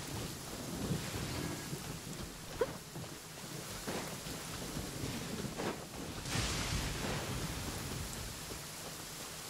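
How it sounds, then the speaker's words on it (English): Rain and thunder in the Genshin Impact game: steady rainfall patters throughout while low thunder rumbles roll in, with one louder crack near the middle, and no one speaking. "Why is it always raining?"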